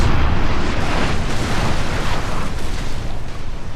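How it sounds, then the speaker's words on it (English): A warship's cannon broadside in Napoleon: Total War naval combat: a loud, dense, continuous rumble of overlapping booming shots that slowly eases off. "we're both firing now, chain shot, trying to disable the 74's mast"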